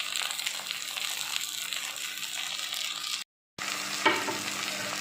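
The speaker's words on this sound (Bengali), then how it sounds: "এবার আমি হলুদের গুঁড়ো 1 চামচ দিয়ে দিলাম, কাশ্মীরি লঙ্কার গুঁড়ো 1 চামচ দিয়ে দিলাম, দিয়ে একটু মশলাটা ভাজা ভাজা করে নিচ্ছি" Turmeric and Kashmiri chili powder fry in a pan with tomato and green chilies, a steady close sizzle and stirring that cuts out briefly, then resumes with a soft scrape.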